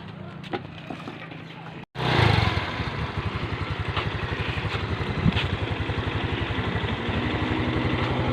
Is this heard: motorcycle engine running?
yes